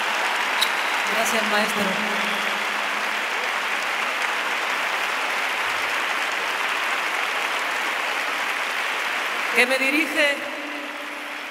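A large stadium concert crowd claps in sustained, even applause throughout, with a singer speaking over it near the start and again toward the end.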